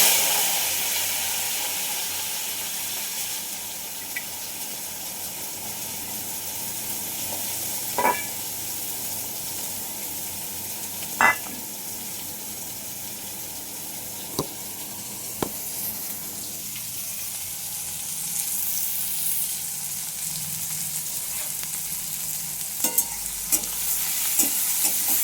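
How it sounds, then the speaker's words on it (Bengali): Onions fry in hot oil with a steady, close sizzle and hiss, broken now and then by sharp scrapes and clicks of stirring in the pan; no one speaks. "এদিকে দেখো পেঁয়াজগুলো দিয়ে দিচ্ছি,"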